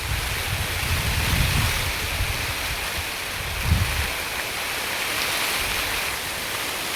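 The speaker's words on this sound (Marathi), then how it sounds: "वाईट न्यूज आल्यावर पाऊस बघा कसं पडायला लागला" Rain begins to fall in a rural farm setting. A broad steady hiss holds for several seconds with faint low rumbles now and then. It is even and moderately loud, with no speech.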